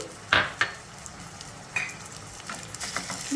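Tomato puree frying in a pan for palak paneer, a faint steady sizzle broken by a couple of sharp utensil clanks against the pan early on and scattered light scrapes after.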